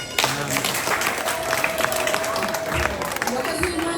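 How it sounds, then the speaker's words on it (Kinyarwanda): A congregation applauds at a church high school graduation celebration, with dense, sustained clapping mixed with crowd voices and someone speaking over it throughout. "Imana nitera amashyi."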